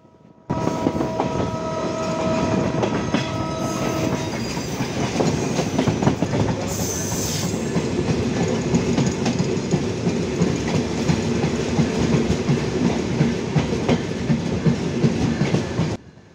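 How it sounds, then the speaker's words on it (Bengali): The Chitra Express rolls into Ishwardi junction railway station in Bangladesh with a loud, steady rumble and rhythmic clickety-clack of wheels on rails, a faint whine early on, continuing near and unbroken for the whole stretch. "চিত্রা এক্সপ্রেস ট্রেন প্রবেশ করলো বাংলাদেশের সবচেয়ে বড় junction rail station Ishwardi rail station"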